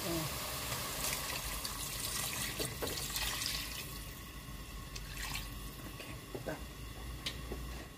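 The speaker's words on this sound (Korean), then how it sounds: "여기다가 이제 물을 부어" Two liters of water pour steadily and fairly loudly into a pot for Korean rice cake soup, a continuous rushing splash that eases slightly toward the end.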